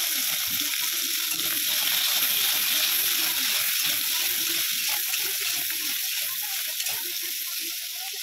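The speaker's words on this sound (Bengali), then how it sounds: "ভালো করে নেড়ে চেড়ে নিলাম" Whole cauliflower florets frying in a pan, with a loud, constant sizzle and repeated scraping and stirring strokes close by, steady throughout.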